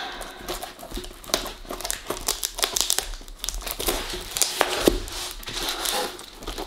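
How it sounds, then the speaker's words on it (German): Plastic packaging of a bead embroidery kit being cut open, with close, irregular crinkling and rustling bursts of stiff plastic and a few sharper snips and crackles. "Schneiden wir die erstmal auf."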